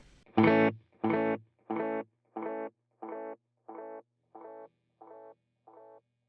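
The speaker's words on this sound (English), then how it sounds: "Feedback for this delay, we're going to raise it. Just that way it goes on longer." A single guitar note repeats about nine times in an even rhythm, each echo a little quieter than the last, with no voices.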